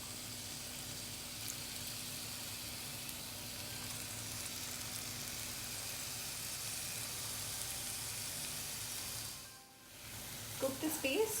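Spice paste with curry leaves sizzles steadily in a pan for an egg pepper fry, a continuous close frying hiss that dips briefly near the end before a few sharper crackles.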